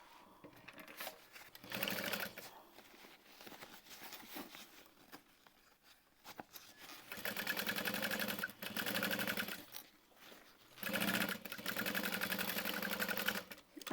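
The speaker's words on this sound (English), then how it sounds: "Line up our center, the bottom. And we'll sew that shut." Sewing machine stitching the bottom of a handbag shut, running in several steady bursts of whirring with short stops between them, moderately close and without talk.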